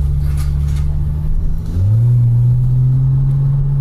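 Porsche engine fitted with a free-flow exhaust, heard from inside the car, holds a deep, booming drone, dips briefly, then rises again and settles into a steady, loud low rumble.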